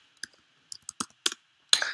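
A computer keyboard is typed on in a handful of quick, separate clicky keystrokes, close and clear over near silence.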